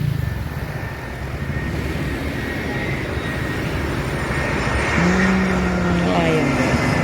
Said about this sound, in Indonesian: Ini mau landing lagi nih.